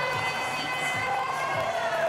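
A volleyball crowd in an Atlanta arena cheers and roars in a sustained, fairly loud wash of voices, with whistles or horn-like tones mixed into the noise.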